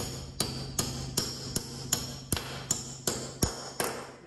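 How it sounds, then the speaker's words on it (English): A hammer taps anchor bolts into a concrete wall for a pull-up bar installation, about eleven sharp, evenly spaced metallic strikes at a steady rhythm, close and clear over a faint low hum. "all we need to do here is just tap them in"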